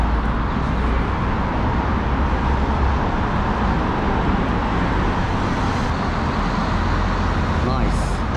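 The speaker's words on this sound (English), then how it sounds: "Getting a little bit loud with traffic now." Steady, loud road traffic rumble on a busy London street near Harrods, a continuous wash of cars, buses and trucks with no pauses, people talking faintly in the background.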